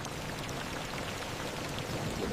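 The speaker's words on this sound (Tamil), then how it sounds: "Rain came." Rain falls steadily in a village scene of an animated story, a soft, even hiss of drops that stays faint and unbroken throughout.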